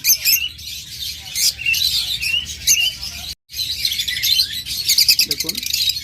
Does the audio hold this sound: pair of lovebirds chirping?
yes